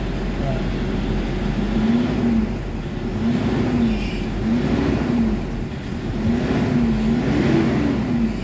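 A Toyota Hilux engine, treated with XADO for low power, idles and revs in steady rising and falling swells close by, with a rhythmic whine riding the engine note and someone talking over it.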